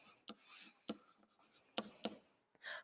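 Pen scratching across paper during a chemistry lesson on the mole, a few faint soft strokes with sharper taps between them, close and quiet, with no talking.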